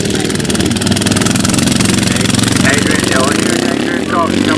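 A racing motorcycle engine runs loud and steady on a road-racing circuit at Farleigh Castle, with a continuous buzzing drone and a faint pitch shift near the end.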